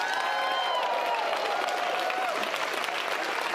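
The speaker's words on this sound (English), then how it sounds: "I need like a big round of applause." An audience at a conference session gives a full round of applause, a steady blanket of clapping with faint cheering and a few high tones running through it.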